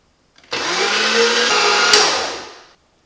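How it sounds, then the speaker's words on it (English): An electric meat grinder works through a meatloaf mixture in one loud, steady whirring burst of about two seconds that starts abruptly and winds down, with nothing else heard. "And I'll go through and grind this mixture."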